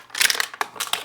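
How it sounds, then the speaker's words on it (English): Backing is peeled off an adhesive protective sheet in short crinkly tearing bursts, close and crisp, with several quick rips in about a second. "And then we're gonna peel the backing"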